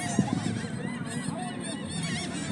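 Geese at a beach being fed bread honk repeatedly in a busy, overlapping chorus at moderate volume, with no talk over them.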